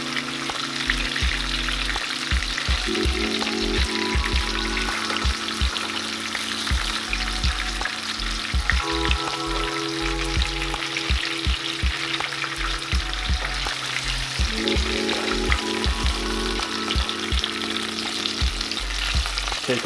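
Speckled trout frying in hot grease makes a loud continuous crackling sizzle with dense popping and spitting throughout, close up and unbroken, no voices.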